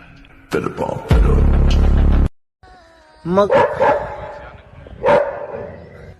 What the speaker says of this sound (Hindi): कुत्ते बहुत भौंक रहे